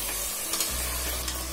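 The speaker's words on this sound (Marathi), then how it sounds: "छान हलवून घेऊया." Biryani masala with salt being stirred in a hot pan, a brief continuous sizzle with faint scraping of the spoon.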